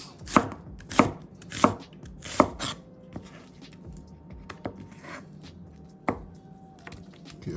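A knife chops onions on a board with four sharp, evenly spaced strikes close by, followed by lighter scattered taps and small clicks.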